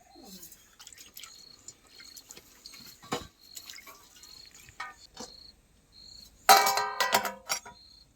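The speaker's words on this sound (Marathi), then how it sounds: "हे बघा शेंगा धुवून घेतल्यात चांगल्या एक पाण्याने" Drumstick pods being washed in water in a home kitchen, with scattered drips, splashes and sloshing that come and go, plus a louder burst of running water near the end and a faint chirping in the background.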